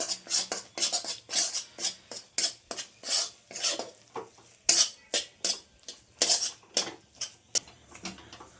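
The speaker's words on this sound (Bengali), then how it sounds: "কাইটা ভালো করে নিচ্ছি নেড়ে চেড়ে" Rice flour dough being stirred in a pan of boiling water for a Bengali rice-dumpling payesh, a steady run of close, sharp utensil knocks and scrapes against the pan in a quick, regular rhythm.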